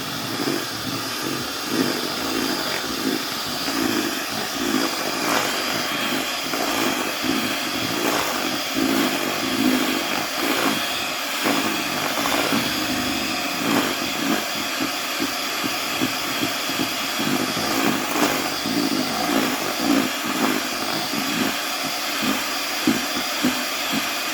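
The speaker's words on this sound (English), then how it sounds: "But to make them nice and creamy, put on the mixer on low." An electric mixer runs steadily on low while mashing tender boiled potatoes, a continuous whirring motor hum with faint rhythmic thumping throughout, close and fairly loud with no talking.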